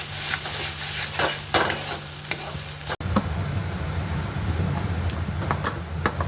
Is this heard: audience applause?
no